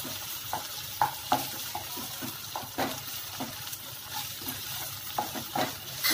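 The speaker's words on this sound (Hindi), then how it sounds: "लहसुन और लाल मिर्च की जो चटनी है वो मैं डालती हूँ। इसको अच्छी तरह से मिक्स करेंगे।" Garlic and red chilli chutney stirred into paneer bhindi masala in a pan, soft repeated scrapes and taps over a low, steady frying hiss, fairly quiet and close.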